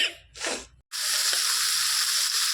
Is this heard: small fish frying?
yes